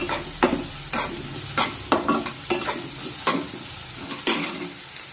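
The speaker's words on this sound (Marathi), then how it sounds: "आता मध्यम आचेवर हा कांदा छान गुलाबी रंगावर येईपर्यंत परतून घेऊया" Onion sautéed over medium heat for masoor dal amti, a continuous close sizzle with repeated rhythmic scrapes and clinks of a spoon stirring in the pan.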